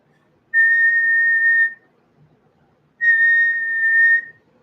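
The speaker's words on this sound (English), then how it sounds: "We get a whistle because we've got rail near us, so we hear that." Two long, steady whistle blasts from a train on a nearby railway, each about a second long with a pause between, clear against a quiet background.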